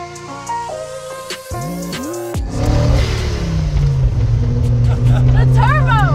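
A car engine revs up hard and loudly, close by, as its turbo spools, building into a rising roar with whooshing and whistling tones. Earlier there are some tonal electronic sounds, and voices are faintly present throughout.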